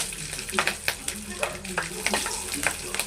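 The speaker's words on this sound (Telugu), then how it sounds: "ఇప్పుడు ఇందులో పచ్చిమిరపకాయలు వేసేస్తున్నాం" Green chillies hit hot oil in a pan for an egg and garlic chilli dish, a bright crackling sizzle with quick spatula strokes repeating every fraction of a second, close up.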